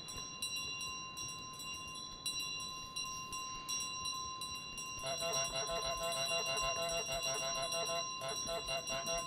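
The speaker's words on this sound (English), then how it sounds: "The bell makes a ton of noise." A small bell carried by the goose in Untitled Goose Game jingles repeatedly in quick bursts over a steady hum of game music, the ringing growing busier and denser toward the end.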